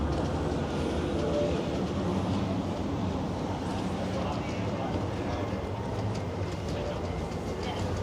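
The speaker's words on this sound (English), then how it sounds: "Nice big tram there, folks." A big tram rolls through a busy city tram stop, giving a steady, fairly faint rumble and clatter that continues throughout with no clear change in level.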